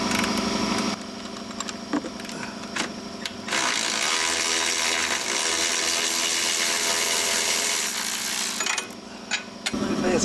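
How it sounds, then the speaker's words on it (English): A power tool whirs to remove a small bolt from the front suspension of a 1986 Ford F-150, a loud, close, sustained mechanical whine with brief spurts before and after. "Now we'll get this little bolt off up here."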